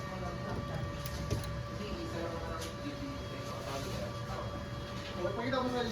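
Mutoh large-format inkjet printer running its head cleaning cycle beside the waste ink tank, a steady mechanical whir and hum with faint pump tones, heard under a person talking.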